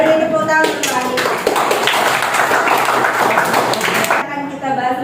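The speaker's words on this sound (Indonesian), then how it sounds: "Ya, beri tepuk tangan untuk Andika." A class of students bursts into clapping for a classmate after his answer in a biology lesson, a brisk, close burst of many hands lasting a few seconds before a voice resumes.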